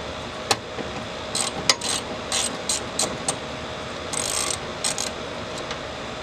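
A 9/16 socket ratchet clicks in short bursts while working on a Ford F-series starter solenoid, with irregular quick ratcheting runs at close range and no talking.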